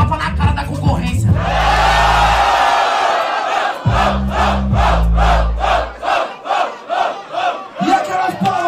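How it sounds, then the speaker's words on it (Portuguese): A crowd cheers and shouts loudly over a beat, then breaks into rhythmic chanting or clapping in regular pulses. "E aquelas palmas para ele"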